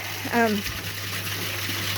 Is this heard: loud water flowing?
yes